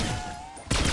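Hand cannon gunfire in a video game: a loud, dense burst of shots erupts abruptly near the end, following a quieter stretch with a steady tone.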